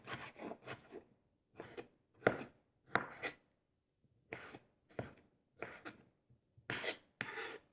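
A knife chops tomatoes into rough dice on a board, giving bursts of quick, crisp strokes separated by short pauses; close and fairly quiet, with no voices.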